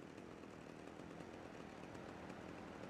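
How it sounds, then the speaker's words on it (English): A chainsaw revs steadily in GTA Vice City, a continuous buzzing drone at a constant level, faint and without talk. "Tommy has to use a chainsaw to take down the bad guy, Mr. Gonzalez."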